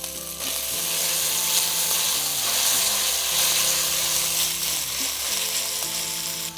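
Onions with ginger-garlic paste and chopped tomatoes fry in a pan for a dhaba-style tandoori aloo biryani, giving a steady, loud, continuous sizzle that holds throughout with no voices over it.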